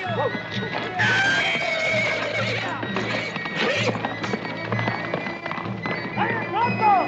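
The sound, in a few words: horse neighing and galloping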